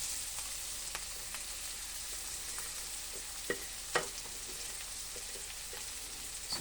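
Garlic and onion sauté in a pan for a buttered paella. A steady, soft sizzle runs throughout, broken by a few louder scraping clicks of stirring in the middle, with no talk.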